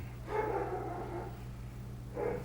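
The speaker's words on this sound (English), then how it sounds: "And you can hear the dog next door barking." A neighbour's dog next door barks twice from a distance, muffled and fairly faint, with a pause between the two barks over a steady low hum.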